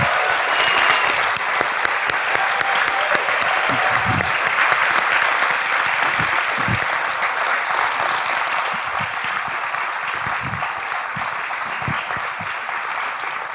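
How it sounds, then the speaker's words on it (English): Loud, sustained applause from a live audience welcoming hosts onto stage at a podcast recording, continuous dense clapping that eases slightly toward the end. "I'm going to ask you to give a warm round of applause"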